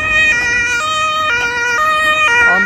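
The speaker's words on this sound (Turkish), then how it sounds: "Ambulans sesleri çok güzel arkadaşlar" An ambulance siren wails close and loud, its two-tone pitch stepping up and down several times in a steady alternating pattern, with road traffic rumbling faintly underneath and no voices.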